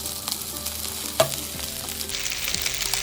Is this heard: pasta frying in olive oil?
yes